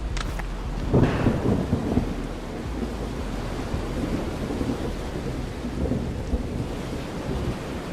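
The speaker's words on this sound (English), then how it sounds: "Rain." Steady rain with rolling thunder in the Motorslice video game, a loud crack and rumble near the start settling into a continuous wash of rainfall and low thunder for the rest.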